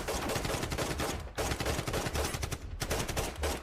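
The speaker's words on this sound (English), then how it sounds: "Why is shooting the MP5 like it's a pistol?" Continuous rapid MP5 submachine gun fire in a video game, loud, dense bursts with brief pauses near 1.4 and 2.7 seconds, no voices.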